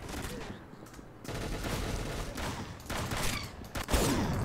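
Rapid gunshots in the Roblox game Arsenal, dense continuous bursts of firing that swell louder toward the end, with a voice talking over the shooting.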